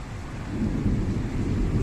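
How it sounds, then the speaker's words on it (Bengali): Deep thunder rumbles continuously over a dense wash of heavy rain, loud and close, with no voices. "বৃষ্টি শুরু হয়ে গেছে"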